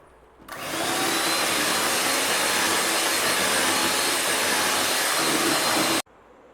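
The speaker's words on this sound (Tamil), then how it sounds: "இப்போ நல்லா பீட் பண்ணிக்கலாம்." An electric hand beater whirs at a loud, steady pitch through plum cake batter of butter, caramel and vanilla essence, starting abruptly after a short quiet pause and cutting off sharply about five and a half seconds later.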